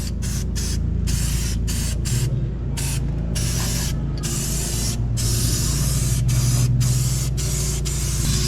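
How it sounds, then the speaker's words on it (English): An aerosol spray paint can sprays in a series of hissing bursts onto a Chevy Silverado part, short pauses between them, close up over a low steady hum. "Then get your finest can of spray paint."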